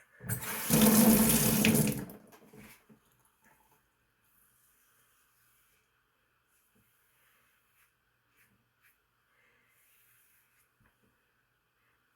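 Running tap water rinsing a Wilkinson Sword Classic razor under a faucet, a loud close gush lasting about two seconds and then stopping, leaving near silence with faint small clicks.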